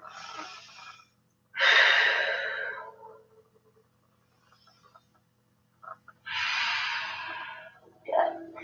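Deep breaths during a yoga hamstring stretch come through close and audible, two slow breath cycles with long airy exhales and a quiet gap between them.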